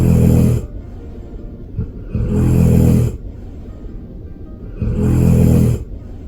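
A big Labrador snores loudly and close by, three long rasping breaths spaced a couple of seconds apart with quiet pauses between them.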